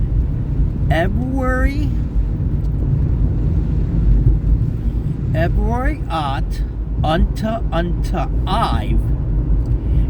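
A car driving on the road to a buffet restaurant in Crystal, giving a steady low engine and road rumble throughout, with a person talking over it.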